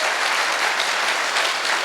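A live hall audience bursts into loud, sustained applause, dense clapping holding steady throughout with no voices over it.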